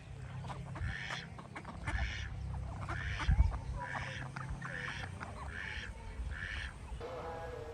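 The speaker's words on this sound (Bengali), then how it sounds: "হাঁসগুলো সব গোসল শেষ করে রোদে গা শুকাচ্ছে" Village farm ducks, sunning themselves after a bath, give a regular series of about seven nasal quacks at moderate distance over a low background rumble.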